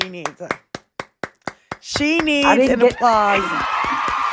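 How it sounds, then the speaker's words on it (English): A handful of people clap in a brisk run of about eight sharp, separate claps, close and fairly loud, then break into loud cheering, whooping and laughter that carry on to the end. "She needs an applause."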